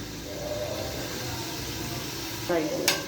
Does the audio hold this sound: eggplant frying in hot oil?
yes